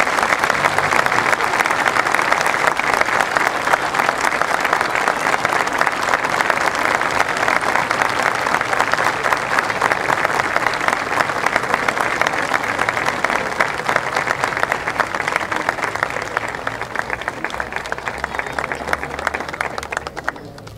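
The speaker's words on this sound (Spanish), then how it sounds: "¡Fuerte el aplauso!" Sustained audience applause at a ceremony honoring a Malvinas veteran as guest of honor, dense steady clapping from a large crowd lasting about twenty seconds before tapering off slightly at the end.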